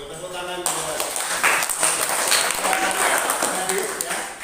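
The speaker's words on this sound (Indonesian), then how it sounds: "Tepuk tangan buat" Students in a classroom session clap for a classmate, a burst of mixed clapping and cheering that starts abruptly and fills the room, with voices chattering through it.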